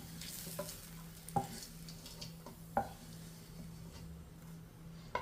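Pork liempo frying in very hot oil in a pan, a steady sizzle with a few sharp stirring scrapes and clinks of a utensil against the pan, heard close and alone.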